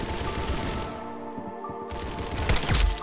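Gunfire in the shooting game Arsenal, continuous rapid shots and crackle at moderate loudness, building to a heavier boom near the end.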